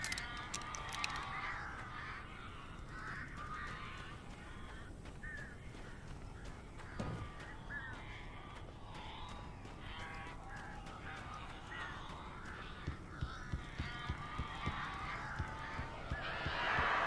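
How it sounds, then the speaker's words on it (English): Crows cawing in the Alan Wake Remastered game, a steady chorus of harsh, repeated caws and squawks from several birds over a low ambient background, moderately faint and continuous. "These birds are weird."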